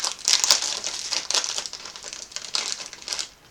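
Crinkly packaging of a savoury Japanese candy being handled while someone tries to open it, close sharp rustling in bursts for a few seconds.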